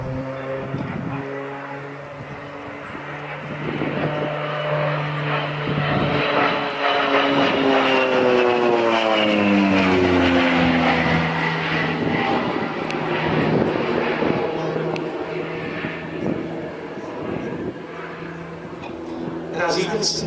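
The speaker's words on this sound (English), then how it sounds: "What was dubbed a light armed reconnaissance aircraft." A propeller-driven light armed reconnaissance aircraft flying aerobatics at an airshow, its engine drone rising and falling in pitch as it passes, loud and steady throughout with no talk over it.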